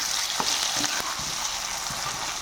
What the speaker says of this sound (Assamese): ধুনীয়াকৈ লৰাই দিলোঁ।